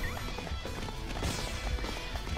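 A horse galloping in the video game Dynasty Warriors 4, a steady fast clip-clop of hooves close up, running continuously over a dense battle backdrop of game noise.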